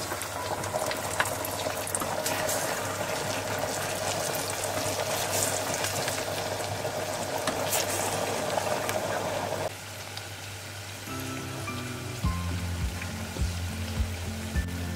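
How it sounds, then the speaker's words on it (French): Cassava fritters fry in hot oil, a steady bubbling sizzle that runs on continuously, moderately loud, with faint clinks and a low hum entering toward the end. "Maintenant on passe à la friture des beignets."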